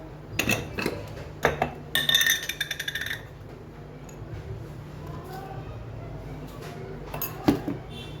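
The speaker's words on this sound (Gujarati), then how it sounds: "ઘરનું ખીરું મિક્સ કરીએ." A spoon stirs homemade vada batter in a bowl, giving scattered metallic clinks and a quick rhythmic run of taps against the bowl early on, then quieter scraping with occasional knocks.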